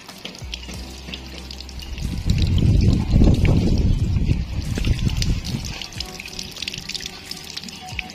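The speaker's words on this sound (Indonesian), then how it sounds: "Tapi nggak ada salahnya kita siram saja, kita kucurkan bener-bener kucur" Water poured generously onto aglaonema potting medium: a splashing, gurgling pour swells in the middle and soaks through, then eases into softer trickling and drips.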